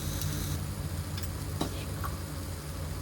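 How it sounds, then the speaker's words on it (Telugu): Small tomato pieces dusted with turmeric fry in a pan with a low, steady sizzle, nearby and unbroken, marked by a few faint ticks and one brief clink. "ఒక చిన్న టమాటా ముక్కలను కూడా వేసుకొని వేపుకోవాలి"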